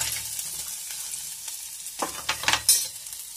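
Grated ginger sizzles and fries in a pan while a vegetarian fasting-day meal is cooked, with quiet background crackle breaking into several louder, sharp sizzling bursts near the end as it hits the hot oil.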